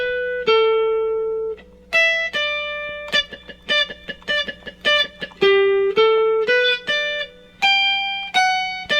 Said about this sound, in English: next, for the verses, we'll play a melody that sounds something like this.